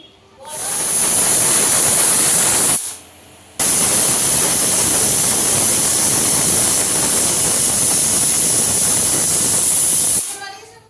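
A pressure cooker of Bengali mutton curry lets out a loud, steady hissing whistle of escaping steam that runs almost unbroken for about ten seconds, with a brief dip partway through, and no voices over it.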